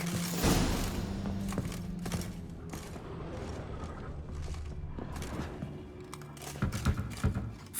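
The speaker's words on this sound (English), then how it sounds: "For now, a knock will suffice. If you hear a hollow thud, we will have found what we seek." Wine barrels in a Witcher 3 cellar get knocked, giving a series of dull wooden thuds that are irregular, fairly close and mixed with game ambience and soft rumble. No one speaks.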